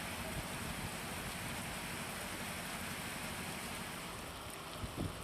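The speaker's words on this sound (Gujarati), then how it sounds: "અમરેલીના લાઠીમાં ધોધમાર વરસાદ ખાબક્યો" Heavy rain in Lathi, Amreli, Gujarat, a dense unbroken roar of downpour with a gusty wind-like rush and a faint thump near the end.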